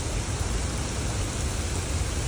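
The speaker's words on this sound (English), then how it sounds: "it completely rained out while we were there. Like it fully started like bucketing down." Heavy rain bucketing down outdoors at a waterfall swimming spot, a dense, continuous roar of rainfall that stays even and loud throughout, with no voices.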